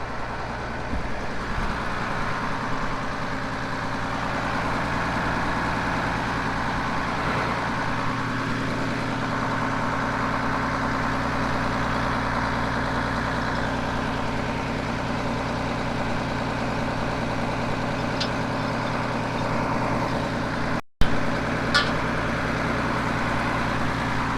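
A steady low diesel tractor engine idles continuously on an Australian farm at seeding time, a deep rumbling drone that holds even throughout, with one brief sharp knock near the end.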